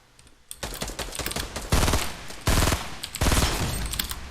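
Gunfire in the video game Fortnite rings out close and loud in rapid repeated volleys, several sharp bursts following one another over a few seconds.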